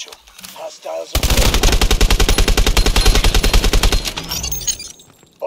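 Sustained rapid automatic gunfire in a video game rescue mission shootout, loud and close, a fast even burst lasting a few seconds before trailing off, with brief speech at the start.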